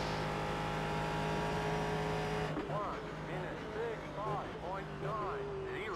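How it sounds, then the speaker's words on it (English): Race car in the iRacing sim, engine droning steadily, then revs rising and falling in repeated swoops as gears are shifted down, with someone talking over the engine throughout. "Catching a car so you can hear it."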